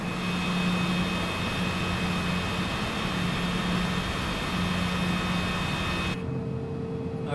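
A jet airliner in a flight simulator game spools up for takeoff from Seattle runway 34R: a loud, steady engine roar with a whining tone that holds for about six seconds, then drops sharply to a quieter hum.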